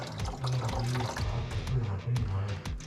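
Coolant pouring out of a 6.7 Cummins diesel engine during a coolant flush, a steady splashing liquid flow with some dripping and a voice murmuring over it.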